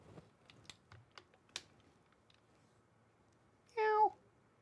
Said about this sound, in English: there's this cat right here